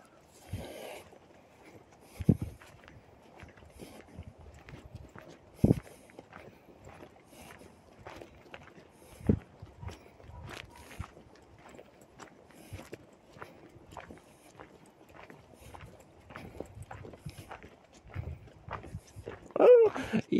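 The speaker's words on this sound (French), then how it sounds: "Ils sont beaux les chevaux" Horses walk through Parc de Brabois in October, their hooves giving a steady run of sharp, fairly close clip-clops over soft outdoor background, with a few louder knocks and a brief vocal sound near the end.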